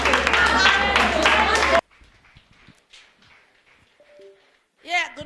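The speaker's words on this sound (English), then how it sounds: "Come on, put your hands together for her." A seated audience gives a loud, dense burst of applause to welcome speaker Bliss Ojeruse at a personal branding talk. The clapping fills the first couple of seconds and then cuts off, leaving a quiet room with faint scattered sounds.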